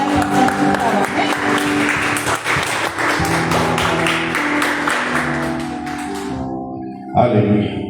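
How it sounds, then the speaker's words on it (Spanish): A church congregation claps during a Sunday service, loud sustained applause mixed with voices and sound from the sanctuary, fading out near the end before a brief burst of sound. "Así que démosle un fuerte aplauso al Señor y la bienvenida a nuestra amén."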